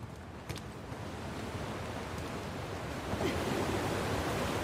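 Rushing water of an aqueduct in the video game Uncharted: The Lost Legacy, a steady broad roar like a river that swells slightly louder toward the end, with no voices over it.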